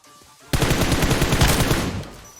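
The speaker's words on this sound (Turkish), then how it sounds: "Nereden sıktı o pompalıyı?" A loud, sudden burst of shotgun fire from the PUBG Mobile video game, on the Livik map, erupting after a quiet start with rapid overlapping blasts that hold strong before tailing off.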